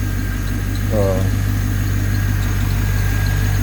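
A Chevrolet Corvette C5 with an LS1 pushrod V8 idles steadily with a constant low drone and rumble throughout, close and even, with a brief faint tonal chirp early on.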